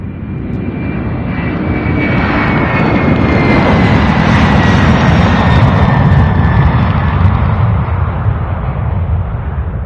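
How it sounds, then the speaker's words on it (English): A Boeing 767 taxis past at an airport cargo hub, its jet engines producing a loud, steady roar with a faint whine, sustained and close throughout. "So the 767 here, the one that's taxiing right here in front of us"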